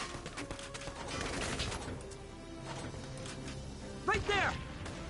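Gunfire in the war strategy video game Valkyria Chronicles 4 crackles as scattered volleys beneath a speaking voice, followed by a short, sharper burst near the end.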